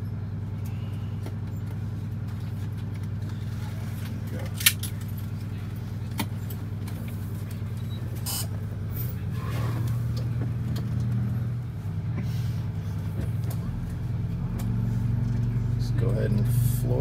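Detroit Diesel 8V92TA turbo engine in a Wanderlodge bus, with turbo boost issues, droning steadily at high throttle close to the cab, its low rumble rising toward the end, with people talking over it and occasional jangling clinks.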